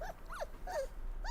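A dog named Dinga, from a dubbed South Indian film, makes short rising and falling whining growls, three or four brief vocal bursts in quick succession, close and moderately loud with no talk.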